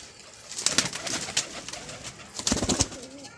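Pigeons cooing nearby in soft, throaty bursts, with a couple of clusters of rhythmic coos and a quieter call near the end over faint background noise.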